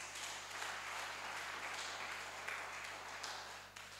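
A church congregation applauds for Jesus during a sermon: steady, dense clapping from many hands fills the room at a moderate distance, continuing evenly before easing off at the end.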